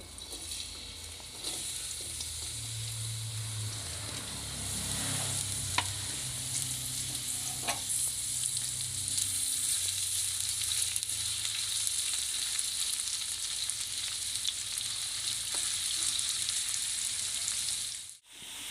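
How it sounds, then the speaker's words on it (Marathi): Onions sizzle steadily in hot oil, a continuous crackling hiss with a few faint clinks of stirring, no voices. "आता आपलं तेल गरम झालंय, आपण त्यात कांदा छान भाजून घेऊ।"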